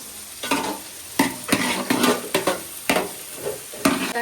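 Chilies and curry leaves dropped into hot oil, crackling and spitting in loud, close bursts of sizzle that rise and fade repeatedly over a few seconds, with no talking.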